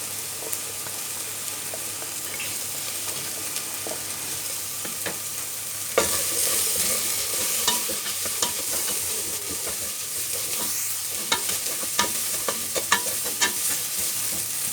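Steady sizzling and frying in a hot pan that grows louder midway as garlic and ginger are added to golden-browned aromatics, with scattered scraping and stirring clicks close by.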